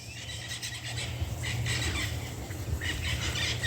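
Yellow-headed parrots in Belize call out with several loud, harsh squawks and screeches, repeated in bursts over a steady low background hum.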